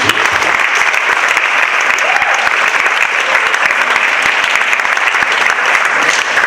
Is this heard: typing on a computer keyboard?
no